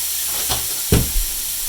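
Vegetables cooking in a hot pan on a stove give off a short hiss with two brief bursts of sizzle, close and fairly loud, with no talking.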